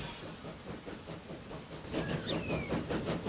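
A train in Transport Fever rolls along slowly, making a low rumble and soft rhythmic clatter under a steady hiss that grows a little louder partway through, with a brief high squeal.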